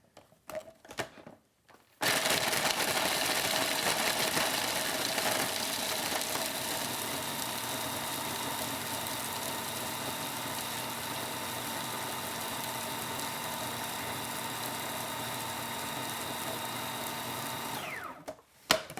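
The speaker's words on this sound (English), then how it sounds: "they're in the food processor here. I'm just going to grind these until they're nice and gooey" A food processor grinds walnuts and dates into a sticky crust mixture, starting after a few brief clunks and running as a loud, steady motor whine for about sixteen seconds before spinning down.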